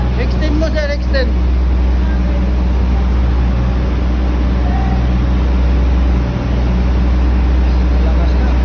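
Hydraulic bucket cylinder extending on a Caterpillar 306E2 excavator with a leaking cylinder, heard as a steady loud engine and hydraulic drone that persists throughout, with a brief whirring burst near the start.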